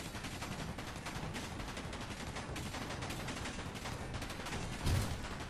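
Machine gun fire from a battlecruiser turret in the Space Engineers video game, a steady, fairly quiet stream of rapid shots with one heavier thump near the end.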